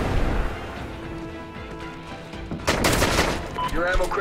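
M9A1 pistol fire in a first-person shooter, heard as sharp shots and crashing impacts over a dense layer of game noise, loud and close.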